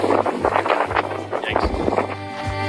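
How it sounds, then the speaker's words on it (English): Strong wind buffets the microphone in a city in Ireland, rumbling and gusting loudly and close throughout while a person talks underneath. "Windy AF."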